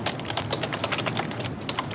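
Rapid keystrokes on a computer keyboard, close and crisp, clicking in a quick irregular run with no talking.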